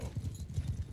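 Horse hooves galloping in Mount & Blade II: Bannerlord, a steady rapid clip-clop rhythm of hoofbeats running through the whole second at moderate loudness, with no voice over it.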